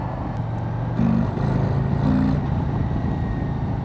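A Harley-Davidson Sport motorcycle accelerates with a throttle-sensitive, torquey engine, giving close, loud rumbling revs with two brief rises in pitch over steady road noise.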